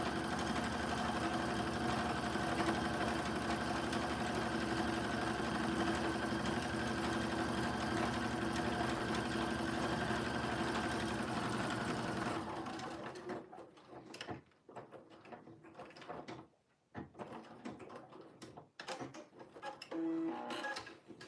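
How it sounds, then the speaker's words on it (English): A sewing machine runs steadily, top stitching jeans at a 3.5 stitch length, then stops abruptly, leaving quiet room noise with faint handling clicks. "back to sewing that second line of top stitching"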